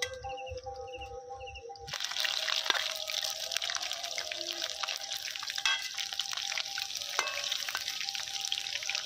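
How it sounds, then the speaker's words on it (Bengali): Pakoras dropped into hot oil in a village wok burst into a loud, dense, crackling sizzle that carries on steadily and close up after a quiet start. "কড়াই এবার তেল গরম হয়ে গেছে, একটা একটা করে পকোড়া দিয়ে দেবো।"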